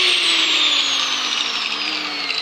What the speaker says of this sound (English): Grinder works.